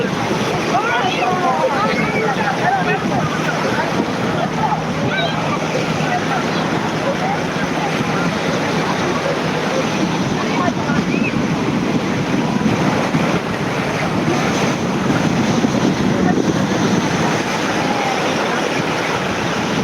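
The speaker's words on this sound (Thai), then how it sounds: "ทะเลอิตาลีจ้า ทะเลอิตาลี" Sea waves wash along the Italian coast in a continuous broadband roar mixed with wind buffeting the microphone, steady and fairly loud from start to finish.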